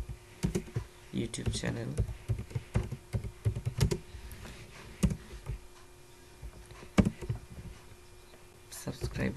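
Computer keyboard keys clatter in quick irregular bursts while someone types a welcome note for an Android app, with someone speaking Bengali over much of the typing.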